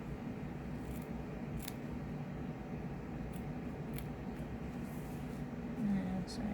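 Scissors snip excess thread and fabric while sewing a face mask: a handful of sharp, separate cuts spaced a second or two apart over a faint steady room hum.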